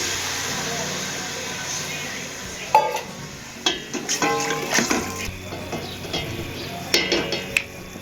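Jaggery syrup goes into a pan for jaggery rice and is stirred, with a soft hiss first and then clattering scrapes of a spoon against the pan in irregular bursts.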